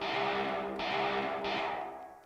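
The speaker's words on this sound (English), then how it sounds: "Maybe a little too much reverb on this." An electric guitar drenched in heavy reverb rings as a dense, distorted wash, with two swelling strums that blur together and slowly fade, loud and alone.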